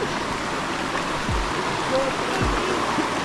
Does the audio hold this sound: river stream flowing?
yes